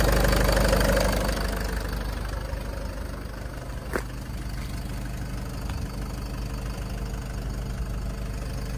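A diesel Land Rover Freelander Mark II TD4 SE with 64,000 miles idles steadily, a continuous low rumble with a faint knocking texture and a single sharp click partway through; no one speaks.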